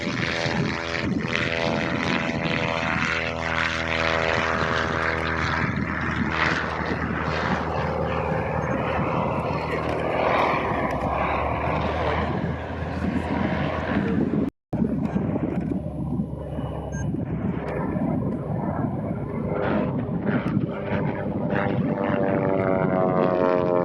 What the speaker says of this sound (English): Now, one thing about the Fokker D.VII, you see it fly, you see how it's flying fairly slow.